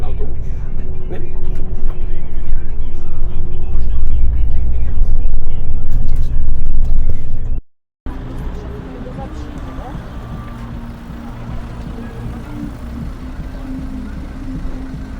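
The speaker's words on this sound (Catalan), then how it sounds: "ja estem a l'autobús" Steady engine drone and road rumble inside a moving bus headed to Lake Bled, Slovenia, in heavy traffic, loud and continuous with a brief cut midway and murmured voices underneath.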